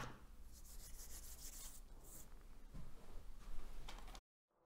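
A craft knife trims excess material from a homemade concrete letter, giving a steady, close scraping and rasping that runs continuously before stopping abruptly, with no voices.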